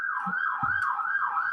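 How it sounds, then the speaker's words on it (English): A fire engine siren wails in a repeating rising-and-falling pattern, fairly faint and distant, heard alone with no talk. "Oh, some sirens."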